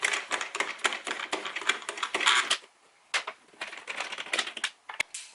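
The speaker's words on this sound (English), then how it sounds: "And finally we want to release the 7 knurled knobs on the top of the engine." Knurled plastic knobs being unscrewed from the engine cover of a BMW i8, a dense run of close, rapid clicking and ratcheting taps with a brief pause midway.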